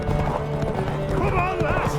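A horse gallops in The Witcher 3: Wild Hunt with rapid, rhythmic hoofbeats close by, while voices speak over the steady clatter.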